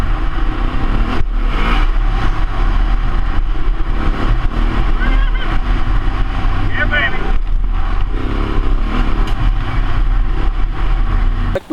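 A Yamaha adventure motorcycle rumbles steadily throughout, its engine note rising and falling during an ABS braking demonstration, with someone talking over the continuous ride noise.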